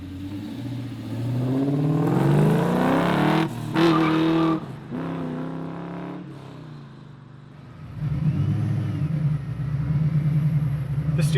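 An LS-swapped 1968 Chevy Camaro restomod engine runs loud and close, its note swelling and dipping through several revs, then settling into a deep, steady idle-like drone near the end, with no talk over it.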